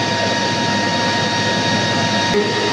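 A 30-horsepower motor on raw water booster pump number 1, running on a variable frequency drive, gives a loud, steady hum with a constant whine held throughout, with no talk.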